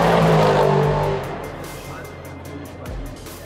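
Classic cars passing by at a race event in Germany, a loud broadband engine roar close by in the first second that fades into a steady background drone with a smaller swell near the end.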